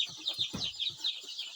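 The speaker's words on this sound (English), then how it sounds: "So guys, these are the chicks I've been talking about." Young poultry chicks in a warmed brooder give faint, rapid high chirps and peeps in quick overlapping bursts, heard close and quiet with no talking.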